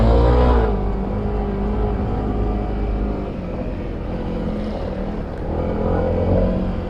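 A Honda CRF300L motorcycle on an off-road trail runs with a close, steady engine drone that swells slightly at the start and near the end.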